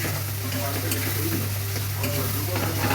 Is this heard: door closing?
no